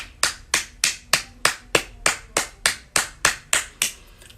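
Rhythmic hand claps, evenly spaced about three per second, each a sharp, close, crisp crack with a short decay, about a dozen in a row and no voices over them.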